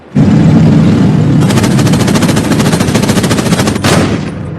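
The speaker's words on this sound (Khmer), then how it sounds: "លោកបាញ់ពីរគ្រាប់ហើយ" Rapid gunfire bursts loud and close, a dense rattling volley of many shots in quick succession lasting several seconds with no pause, no voices.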